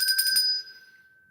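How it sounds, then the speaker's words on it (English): A small bicycle-style bell rings as a celebration, three quick rapid dings followed by a clear sustained tone that fades away, close and alone. "I think we can give Catherine a bell"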